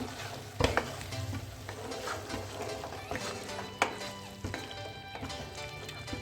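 Chicken koyla karahi with green chillies and sliced ginger being stirred in a pan, a steady low sizzle with scraping strokes and a few sharper knocks of the spoon against the pan.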